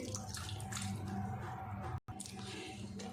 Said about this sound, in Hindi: पानी में थोड़ा सा और डाल देती हूँ